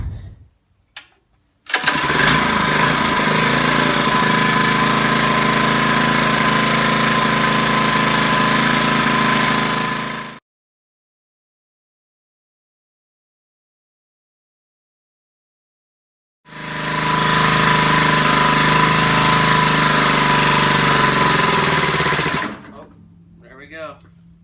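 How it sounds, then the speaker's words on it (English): A small engine running on regular oil drones loudly and steadily close by, cuts out into silence for several seconds, then roars again before stopping, with brief talk near the end. "I'm going to run the engine with regular oil first"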